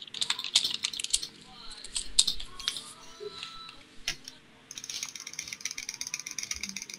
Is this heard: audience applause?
no